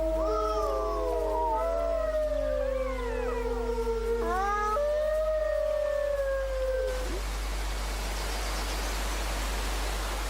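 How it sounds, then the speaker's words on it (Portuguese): Several wolves howl together in the Tatra Mountains, long overlapping rising and falling wails layered in chorus for about seven seconds before fading into wind-like noise, with no talk. "Para a lince, o uivo dos lobos é um claro aviso para deixar o território deles"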